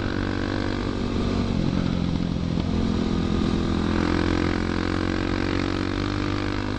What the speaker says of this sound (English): Man, this bike is loud.